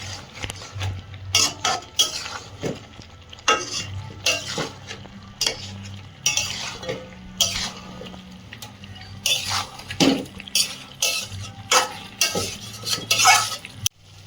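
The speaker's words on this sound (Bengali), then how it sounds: "এবার চিকেনটা দিয়ে দেবো মশলাটা চিকেনের গায়ে ভালোভাবে মাখিয়ে নেব" Chicken pieces are mixed with biryani masala in a pot by hand with a spoon, making irregular wet squelches and repeated metal scrapes and clinks, close by with short pauses between strokes.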